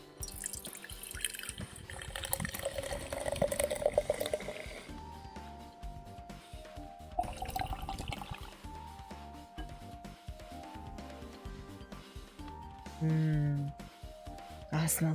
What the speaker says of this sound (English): Gotta pour my water.